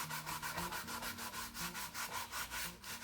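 Rhythmic rubbing strokes as gel stain is worked by hand into an old, discolored wooden box, a steady back-and-forth swish repeating about five times a second, close and even, with no voices.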